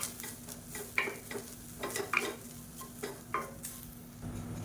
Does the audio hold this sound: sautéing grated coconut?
yes